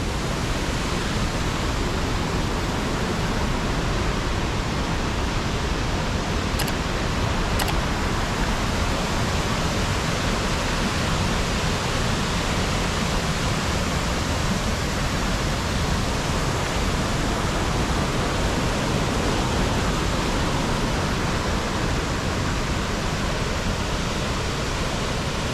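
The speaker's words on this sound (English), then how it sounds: "As you can hear the water roaring past me here." Water roars past an old lock on the Rideau Canal at Smiths Falls, a dense, unbroken rushing wash that stays loud and even from start to finish.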